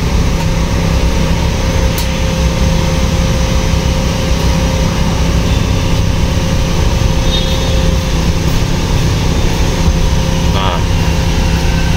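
A car engine converted to run on gas with an aftermarket gas injector idles steadily and close, a continuous hum with faint ticks, while someone talks over it.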